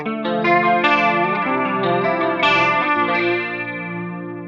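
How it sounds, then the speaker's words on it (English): An electric guitar runs through an AX8 LT-CE1 chorus emulation in mono, with a shimmering, warbling tone on a short run of sustained notes and chords, played alone at steady volume. "This sounds really, really close to my actual CE1."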